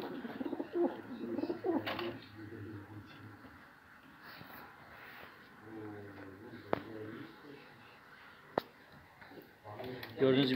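Crested rusty miski pigeons cooing in low, soft, repeated coos from nearby, with a few sharp clicks and someone talking over part of it.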